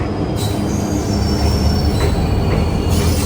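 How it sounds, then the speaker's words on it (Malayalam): A train pulling into Jaipur station before dawn, bound for Jodhpur, its wheels squealing loudly and continuously over a heavy rumble of rolling railcars, close by and without talk. "വെളുപ്പിന് നമുക്ക് ജയ്പൂരിൽ നിന്നും ജോധ്പൂരിലേക്ക് പോകാനുള്ള ട്രെയിനാണ് വരുന്നത്."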